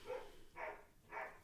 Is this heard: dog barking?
yes